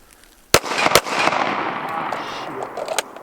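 Gunshots from a control pair fired at a target during an outdoor gun class on a farm: two sharp, loud cracks about half a second apart, each with a rolling reverberant tail, then a single fainter shot near the end.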